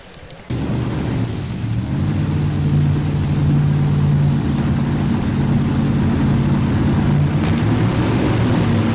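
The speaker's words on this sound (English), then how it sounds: "We're going to have an outstanding time with this tractor pull." Engine of a 1993 tractor pull machine roaring loud and steady at an indoor farm machinery show, a deep sustained drone kicking in abruptly and holding for about eight seconds.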